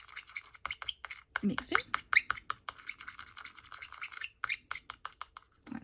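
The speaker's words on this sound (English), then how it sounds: "I might use my other tool because that seems to be scratching a little bit" Small skewer scratching across polymer clay while mixing it: quick, dry scraping strokes in an irregular rhythm, close and fairly quiet, with a person talking over them.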